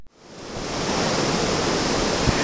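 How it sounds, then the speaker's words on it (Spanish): Water of the Jima river pouring down a waterfall in the central mountain range of the Dominican Republic, a loud, steady broadband roar that swells in within the first half second and then holds evenly. "Las frescas aguas de sus afluentes, encabezados por el río Jima, es un regalo de la madre naturaleza que fluye de la cordillera central"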